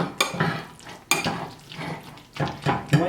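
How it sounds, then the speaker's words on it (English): Shrimp mac and cheese is stirred in a bowl, with thick, sticky scraping strokes that come in several close bursts and carry spoon-against-dish clinks. "Stir the rest of this in here."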